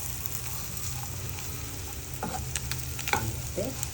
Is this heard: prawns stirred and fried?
yes